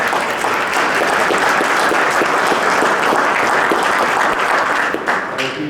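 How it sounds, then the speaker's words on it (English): Sustained audience applause fills a membership meeting room, steady dense clapping from many people that holds for several seconds before thinning out near the end. "And let's all give our new members a round of applause."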